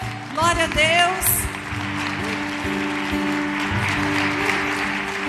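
A church congregation at a healing service applauds throughout, a thick wash of clapping mixed with a voice and some music.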